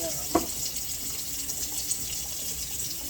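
Running tap water in a kitchen sink while reusable cheesecloth is washed: a steady, hissing stream with a faint clunk near the start, continuous and moderately close throughout.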